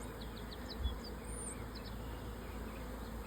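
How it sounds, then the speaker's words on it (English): A honey bee swarm being boxed up during a swarm catch hums as a steady, dense buzz of many bees, close and continuous throughout, with no talking. "if you've never sat and watched a swarm when you box one up, man, you're missing it"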